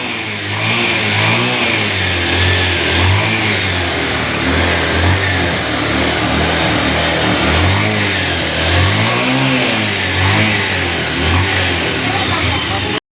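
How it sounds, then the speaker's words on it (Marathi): A Pulsar 150 motorcycle engine kick-started and running, a steady loud mid-pitched engine drone with repeated revving swells close by. "मी मारली किक आणि केली एक वेळा गाडी चालू"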